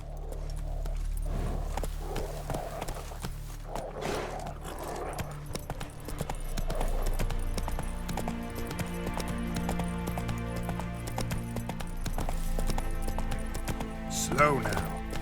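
Horse hooves clip-clop rapidly and steadily throughout in The Witcher 3 as the horse gallops. Music and ambient game sound run underneath, and a voice speaks briefly over it.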